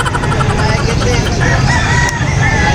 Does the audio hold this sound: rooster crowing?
yes